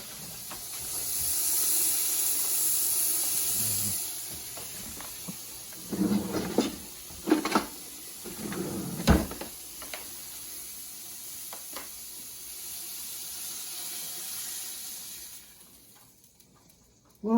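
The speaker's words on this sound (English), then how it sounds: "Sear it until it's seared on all sides." Pot roast searing in an Instant Pot gives a steady hiss and sizzle with a few louder sputters and clunks. It fades out near the end.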